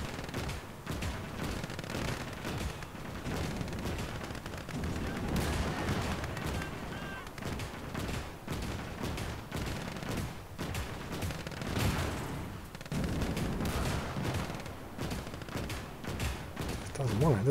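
Scattered rifle and machine-gun fire from units in the WWII strategy game Gates of Hell, Soviet forces during Operation Bagration, a steady crackle of shots with a T-34 tank nearby and a voice talking over it.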